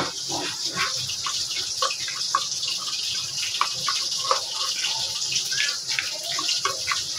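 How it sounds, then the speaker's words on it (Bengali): Water poured into a ground spice paste of mustard, coriander powder, cumin and cardamom while it is mixed for a fish recipe, a steady running-water wash with light stirring clicks, no talking. "সামান্য একটু জল দিয়ে দিলাম।"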